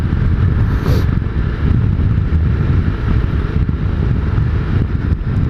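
A Ducati Multistrada 1260 S rumbles along at speed, its deep engine burble steady and loud beneath heavy wind rush across the microphone, with no talk.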